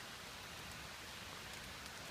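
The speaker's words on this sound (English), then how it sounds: "Like, I mean really rain." Heavy rain pours steadily onto a woodland campsite, a dense, continuous hiss of drops hitting the ground and canopy with no breaks and no voices.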